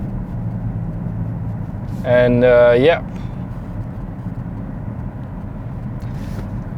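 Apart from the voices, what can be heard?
BMW X6 2020 car driving at speed, interior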